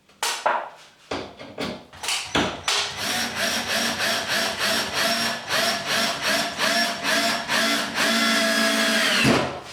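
A power drill drives self-countersinking screws into wooden battens on a ceiling, first in short separate bursts, then in a sustained loud whirring run with rhythmic pulsing, close by, ending abruptly.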